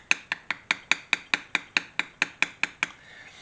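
Beveling stamp struck into leather while carving pirate cuff artwork, thirteen crisp, evenly spaced tapping strikes in quick succession, close and clear, each with a short ringing decay, then quiet.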